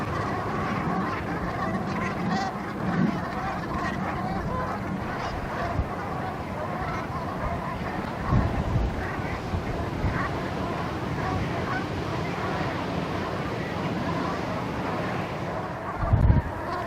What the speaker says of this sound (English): Noisy things, geese, aren't they?